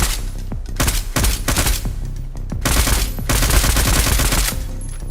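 AK rifle fire in the video game Decaying Winter: several loud bursts of rapid automatic shots, separated by short gaps, with no voices.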